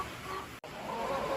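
A rooster clucks in short, choppy bursts close by, with a brief silent gap partway through and a steady outdoor background.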